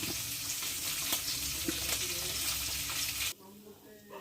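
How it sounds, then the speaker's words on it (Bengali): A piece of katla fish, already turned over, frying in hot oil and giving a steady, loud broadband sizzle with small crackles for about three seconds before it cuts off abruptly to near quiet. "মাছটা এক পিস ভাজা হয়ে গেছে আর আমি এবার উল্টে দিয়েছি মাছটাকে"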